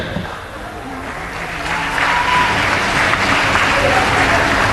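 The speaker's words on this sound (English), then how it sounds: "Let's give both teams a big round of applause, ladies and gentlemen." Applause from a stadium crowd at a women's basketball game between Myanmar and Malaysia at the 2017 SEA Games, MYAT Stadium; steady dense clapping that grows louder midway and holds.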